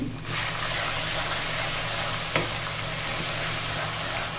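Onions with ginger paste fry for biryani in a loud, continuous hiss of sizzling oil, close up, with one brief stirring knock partway through and no voices.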